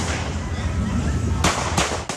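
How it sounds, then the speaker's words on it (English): Gunshots from a shooting near Shawnee Park, with several sharp cracks close together toward the end over a noisy, rumbling outdoor background with voices. "capturing the sound of gunshots"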